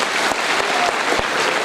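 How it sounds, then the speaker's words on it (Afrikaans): Children applaud together in a steady wash of clapping that fills the room, loud and continuous, with a few sharper claps standing out and no voices over it. "Gee 'n klap, hoekom?"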